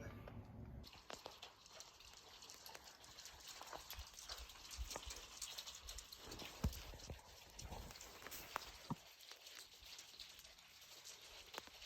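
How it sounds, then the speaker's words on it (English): Hail falls steadily on a ridge among ancient pueblo ruins, a dense patter of scattered ticks and sharper impacts that continues throughout. "It's hailing."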